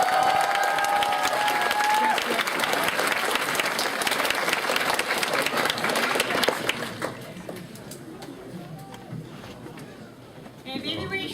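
A convention panel audience for voice actors bursts into loud, thick applause with a few cheers for about seven seconds, then thins into scattered claps as people start talking.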